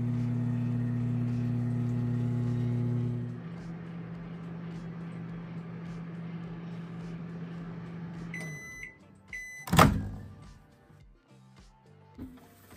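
A microwave oven cooking tomato and date chutney hums steadily, then its drone shifts lower partway through and stops, followed by a few beeps, a loud door clunk and faint handling.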